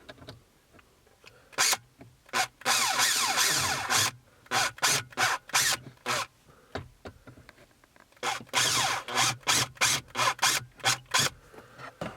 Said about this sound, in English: So we're gonna go ahead and pre-drill 2 small holes.